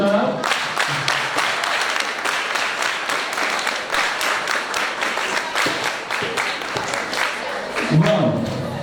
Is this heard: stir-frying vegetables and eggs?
no